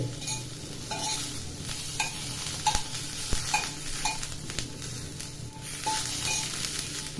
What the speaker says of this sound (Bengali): রসুনটা লাইট ব্রাউন হয়ে ভাজা হবে